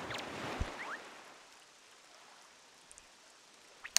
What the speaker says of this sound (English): I really love the rain in this video game.